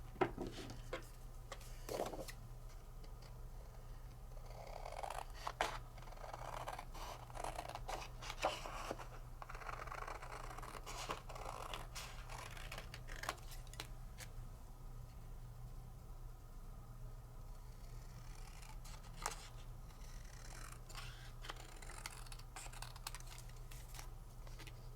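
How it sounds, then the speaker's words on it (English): Scissors fussy cutting around a die-cut paper piece, producing faint, scattered snips and small clicks over a low steady background hum, with no talking. "let's fussy cut it out"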